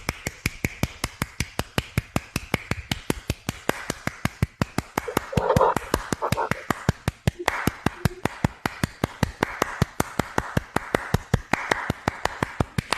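Steady hand clapping, a long run of evenly spaced sharp claps close to the mic, continuing throughout with a brief stretch of quieter voice or background sound in the middle.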